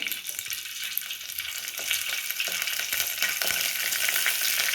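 Curry leaves and green chillies fry in hot oil, producing a continuous crackling sizzle that grows slightly louder and denser over the few seconds, with no talking.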